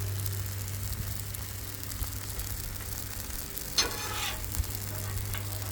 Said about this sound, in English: Got our beef cooking.